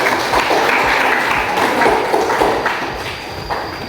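Audience at a teachers' group presentation session clapping after a talk, a dense run of close, fairly loud handclaps that keeps an even pace and tapers slightly toward the end.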